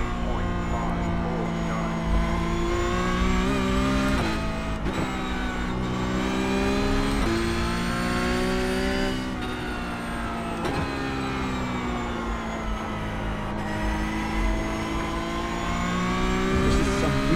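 Porsche Cup race cars roar continuously in the iRacing sim at Charlotte Roval, engines droning and shifting pitch as they accelerate and brake in close traffic, loud and unbroken throughout, with a voice talking underneath.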